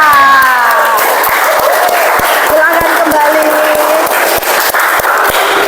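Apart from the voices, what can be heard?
class applauding for a student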